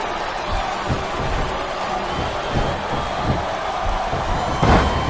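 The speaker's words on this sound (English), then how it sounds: "I love hearing the crowd come alive" Steady arena crowd roar in WWE SmackDown vs Raw 2007, during an Ultimate Submission match, with low thuds from the ring scattered throughout and a brief swell of cheering near the end.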